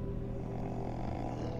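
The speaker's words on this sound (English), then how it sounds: "Is somebody snoring?" Someone snoring in a scene from the video game The Wolf Among Us, a low, steady rumbling breath that drones on continuously and fairly quietly, with no talk over it.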